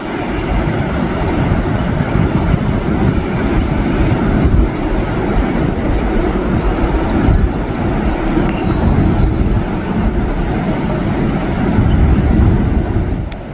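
A train hauled by L425 locomotives rumbles past and recedes, with a loud, steady roar of wheels and cars, rhythmic clatter over the rails, and intermittent high squeals lasting throughout.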